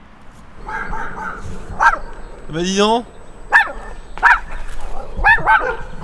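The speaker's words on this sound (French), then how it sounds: "je viens de me faire courser par le petit chien là" A small dog barks and yaps repeatedly while chasing a rider on a Begode EX electric unicycle, sharp close barks in bursts over wind, with someone speaking briefly.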